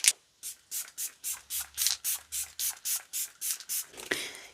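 A makeup setting spray bottle fires a fine mist in about a dozen short, evenly spaced hisses, close and fairly quiet, followed by a brief rustle at the end.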